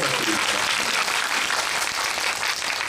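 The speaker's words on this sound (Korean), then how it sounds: "박수 부탁드립니다" An audience at a film screening and talk event for the movie Hunt breaks into steady applause, a dense sustained clapping that fills the room for the whole stretch.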